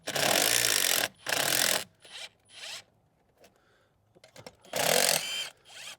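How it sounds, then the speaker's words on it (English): Hose clamps being loosened on a Ford F250 intercooler, with two long, loud ratcheting buzzes of a tool, a few shorter bursts and scattered metallic clicks, then one more loud burst near the end. "I'm gonna loosen all my clamps up."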